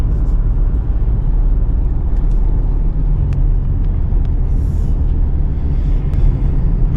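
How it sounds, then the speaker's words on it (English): Cars rumble past on a road in Ukraine, heard loud and close as a continuous roar of tyres and engines, with traffic coming from the opposite direction and no voices. "we've got these cars coming the other way"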